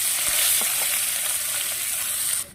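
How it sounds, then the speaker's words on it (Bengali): Onion paste hitting hot oil with fried kalonji in a kadai, a loud, dense, continuous sizzle and hiss that fills the sound up close, dropping off abruptly near the end. "পেঁয়াজটা এক মিনিট মতো ভেজে নিয়েছি"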